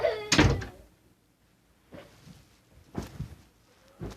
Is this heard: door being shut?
yes